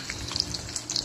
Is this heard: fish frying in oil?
yes